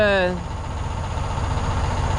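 An engine idles with a steady low rumble. A brief tonal sound at the start gives way to the continuous drone.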